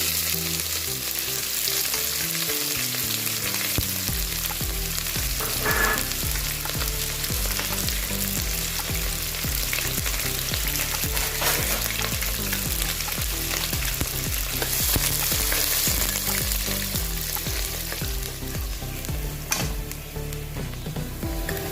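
Mustard seeds and chopped onion sizzle and crackle steadily in hot oil for a mackerel fish curry, a dense continuous fry under background music throughout.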